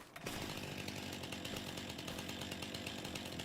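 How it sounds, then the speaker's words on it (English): A chainsaw in a farming video game runs with a steady, loud buzzing drone that starts abruptly and holds evenly for a few seconds, with no talking over it. "I have a chainsaw."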